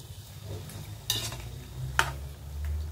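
Chicken tinola being stirred in a cooking pan: a couple of distinct scraping clinks of the utensil against the pan over a soft, steady simmer, close and moderately quiet, with no voices.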